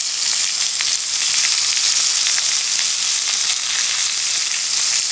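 Fish frying in a hot pan on its second side gives off a loud, steady, even sizzle with no break and no talking, crackling close up.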